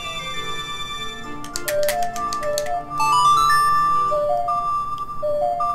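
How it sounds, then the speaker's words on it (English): The Song of Storms melody from The Legend of Zelda, played as a bright, clear ocarina-like tune of short and held notes in a lilting rhythm, with a few ticking clicks partway through and no talking. "This is the Song of Storms."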